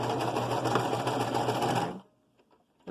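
A sewing machine runs steadily at speed for about two seconds, back-stitching a fabric face mask, then stops abruptly, leaving faint handling clicks before it starts again at the very end.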